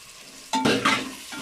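Chopped tomatoes sauté in a hot pan for soya bean biryani, a short burst of loud sizzling with two quick stirring scrapes close up.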